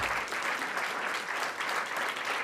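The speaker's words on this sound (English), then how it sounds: "I want us to give a round of applause to our director, Dr. Sifani" A hall audience applauds a director at a university innovation competition awards ceremony. The clapping is steady and dense throughout the short stretch, with no voices over it.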